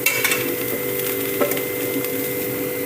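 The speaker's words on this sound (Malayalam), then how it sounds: "ഇച്ചിരി തേങ്ങ വറുത്തെടുക്കാം" Grated coconut roasting in a pan for a Kerala-style beef curry gives a steady, soft dry sizzle with faint stirring scrapes, close and moderately loud, with no talking.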